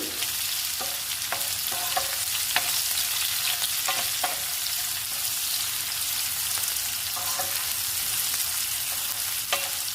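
Beetroot curry with salt fries steadily in a pan, giving a continuous close sizzle broken by sharp spoon clinks and scraping stirs at irregular intervals, with no talking.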